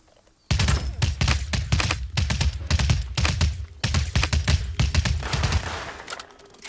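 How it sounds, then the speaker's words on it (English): Rapid bursts of gunfire from the Realm Royale battle royale video game, a long run of sharp, loud shots in quick uneven rhythm with short gaps, fading slightly toward the end. "Where is the gunfire coming from?"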